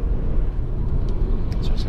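A Honda Accord 2.4 i-VTEC EX four-door saloon drives along with a steady, loud low engine rumble and road noise heard from inside the car, smooth and even throughout.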